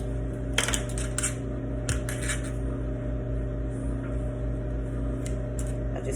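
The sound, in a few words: cutting bacon slices with scissors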